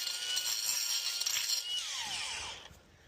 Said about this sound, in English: Just going to use the best grinder in the world and carve out some of these cracks